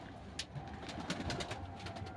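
Soft pigeon cooing nearby, low murmuring calls repeating over quiet background rustles and a few flutters.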